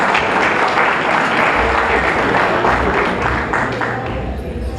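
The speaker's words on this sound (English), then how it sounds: "Please give her a round of applause" Loud, sustained applause from a gala audience at a Diwali celebration in New York, honoring a pharmacist award recipient, dense and steady throughout with faint murmurs underneath.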